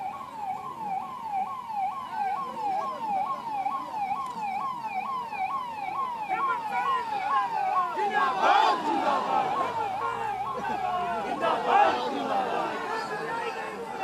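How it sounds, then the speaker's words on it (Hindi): An ambulance siren wailing in a steady, repeating up-and-down cycle while stuck in a crowd of political party workers gathered outside a chief minister's residence, with loud crowd chatter and shouting growing over it. "एम्बुलेंस को निकाल दो, थोड़ा रास्ता भाई लोग खाली कर दो, एम्बुलेंस को निकालने दो।"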